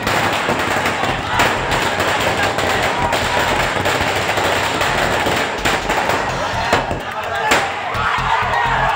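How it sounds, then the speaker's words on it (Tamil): Firecrackers bursting near a governor's residence during a political celebration by party workers and students, a dense, continuous crackle of pops and bangs with crowd noise and voices underneath throughout. "அருகே பட்டாசு வெடித்து கொண்டாடினர்."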